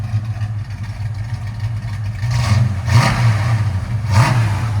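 A 1971 Ford Mustang Mach 1 with a 351 V8, headers and a custom H-pipe rumbles at a loud, close idle, then revs up sharply three times, each blip rising and falling back to the deep burble.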